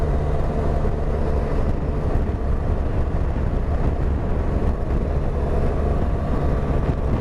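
A Benelli 502TRK adventure motorcycle engine drones steadily while riding, a continuous low rumble mixed with road and wind noise, loud and close throughout with no distinct pauses.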